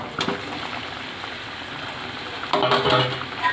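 Chicken pieces dropped into hot spiced oil fry with a steady, moderate sizzle and hiss, swelling into a louder splattering burst near the end as more meat hits the pan, close by with no voices.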